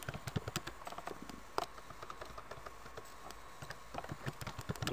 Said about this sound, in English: I'm not very good at typing and talking at the same time.